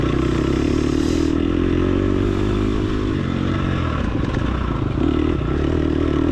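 Dirt motorcycle in third gear with the throttle held wide open on a hot, dusty ranch track, a loud, steady engine drone close to the rider, with gritty rattles and scrapes over it.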